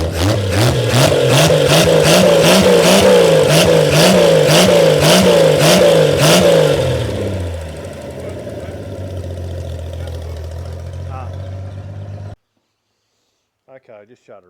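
Old Holden car engine revving hard in rapid, even pulses before dropping back to a lower idle, then cutting off into silence near the end, with a brief voice after.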